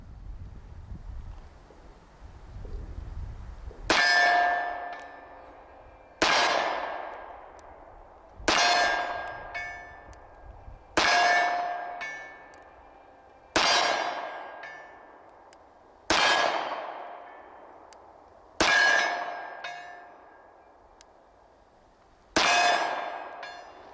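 Eight .45 ACP shots, 230-grain rounds fired from a Dan Wesson Specialist Distressed Commander 1911, each striking a target with a sharp ringing clang that fades slowly, spaced a few seconds apart.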